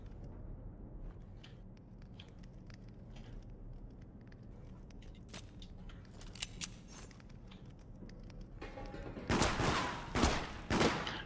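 Scattered faint crackles in the video game Deceit build into a loud, close flurry of gunshots near the end, set over a low steady game ambience.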